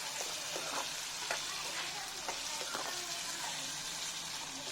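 Fish pieces coated in turmeric frying in a pan, a soft continuous sizzle with occasional light clinks and stirring sounds, fairly quiet and close.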